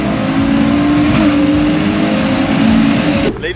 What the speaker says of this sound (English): you have to hear the exhaust